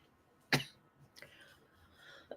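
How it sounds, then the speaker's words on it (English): A single sharp cough bursts out near the mic, followed by a few faint breathy throat sounds and a small click at the end. "Sorry about the cough."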